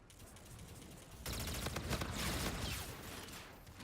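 Suppressed gunfire from a silenced weapon in a multiplayer shooter video game, a sustained burst of muffled rapid shots with dense crackling that starts abruptly and holds for a few seconds, fairly faint.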